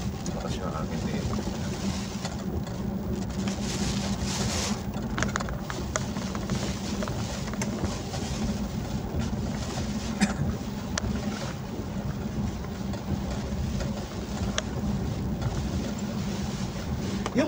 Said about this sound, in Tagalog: Malakas na hangin dito.